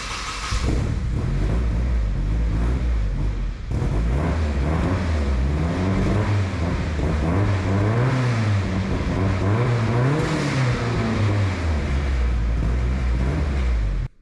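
A turbocharged Datsun 510 hot rod with a freshly fitted muffler roars through a continuous, loud exhaust run, its deep throbbing tone rising and falling in repeated revs for over ten seconds before cutting off.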